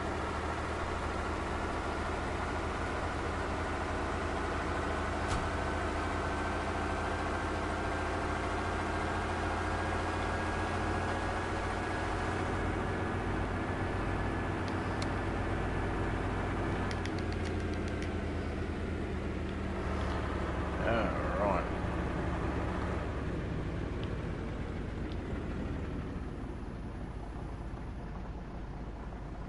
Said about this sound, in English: it's the sound of the tyres on the road.